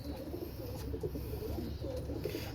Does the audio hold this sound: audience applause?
no